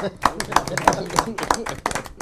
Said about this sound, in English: Give yourself a round of applause, man.